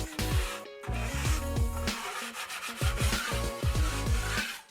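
Sanding plaster filler smooth by hand, knocking down rough high spots on a patched wall repair; a steady series of close, loud back-and-forth rubbing strokes with an uneven rhythm and a brief pause, no talk.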